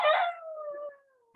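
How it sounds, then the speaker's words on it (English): Dogs howl in a neighbouring compound and at home, a single drawn-out, falling howl fading over about a second, with no talk over it. "It's a neighbor compound one started, and then our dog also will start."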